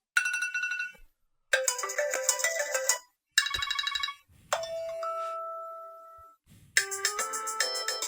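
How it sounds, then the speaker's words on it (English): A phone timer alarm set to an obnoxious tone plays loud, bright chiming melodic phrases in several bursts separated by short silences, with no talking over it. "I guess I'll use a timer on my phone"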